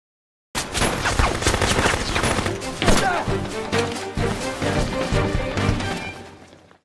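A shootout in the action film Hitman Agent Jun: dense bursts of gunfire and rapid shots ring out close and loud, with scattered impacts and film score beneath, fading out at the end.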